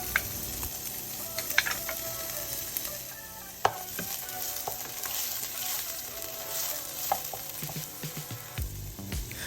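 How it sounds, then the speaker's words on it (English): Shrimp hitting a hot pan with rendered spicy sausage, crackling and sizzling steadily at close range, with stirring clatter and a couple of sharp metallic clinks. "Next, I'm adding the shrimp."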